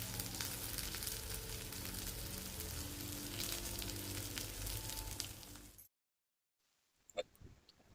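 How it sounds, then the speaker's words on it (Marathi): Bhakas fish sizzling steadily as it fries in oil in a pan, a loud continuous crackle for about six seconds before cutting to near silence and a few faint clinks. "आता ही मच्छी दोन्ही साईडने व्यवस्थित फ्राय झालेली आहे"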